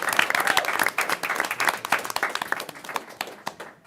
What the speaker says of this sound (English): give a round of applause for Diora.